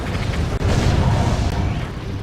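Cannon towers firing in the tower-defense video game Defense Grid, low booming blasts layered over a rumbling, busy game soundscape with a sharp momentary dropout midway.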